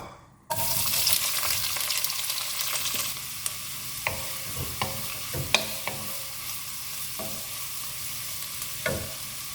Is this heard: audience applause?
no